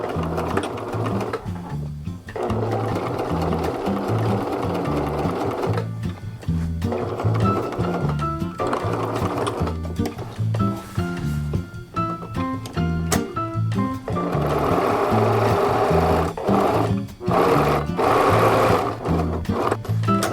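Sewing machine stitching close along the seam allowance of a pillow cover with an invisible zipper, using a regular presser foot; a loud, steady mechanical whir runs nearly continuously, with brief pauses and restarts between bursts.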